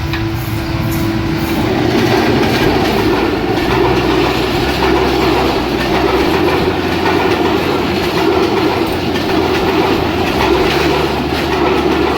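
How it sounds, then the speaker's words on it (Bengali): The 784 Down Tungipara Express from Rajshahi to Gobra, hauled by a 4-series locomotive, runs through Azimnagar railway station on line 1 without stopping, a loud continuous rumble with rhythmic wheel clatter throughout. "রাজশাহী থেকে ছেড়ে আসা গোবরাগামী 784 down Tungipara express Azimnagar rail স্টেশনের 1 নম্বর লাইন দিয়ে থ্রু পাস করে চলে যাচ্ছে"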